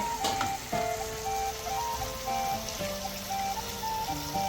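Curry leaves hit hot oil in a pan during mushroom fry cooking, producing a steady close sizzle with faint crackles and bubbling throughout.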